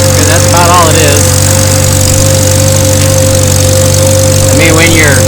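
Old-school tractor and corn planter at work in a field, a loud steady engine drone with a constant hum, while someone talks intermittently over it.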